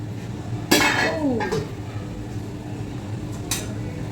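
A metal lid lifts off a cooking pot of cabbage paneer, giving a sharp clank and scrape, then a brief rattle and a second light clink a few seconds later over a quiet kitchen background.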